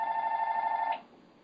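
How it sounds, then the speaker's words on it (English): A telephone ringing nearby, one sustained electronic bell tone that cuts off abruptly partway through, leaving faint room noise. "And why is that phone going off?"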